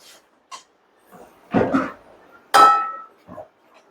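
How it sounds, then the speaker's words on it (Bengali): Malabar spinach with salt is stirred in a pan, giving a few scattered utensil clinks and scrapes, two of them louder and fuller, separated by short quiet pauses. "লবণ দিয়ে আবার নেড়ে নেব আমি"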